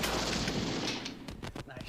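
A few sharp gunshots crack in quick succession in the Western game Mad Dog McCree, landing late over a dense, noisy backdrop of game sound.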